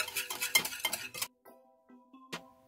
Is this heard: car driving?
no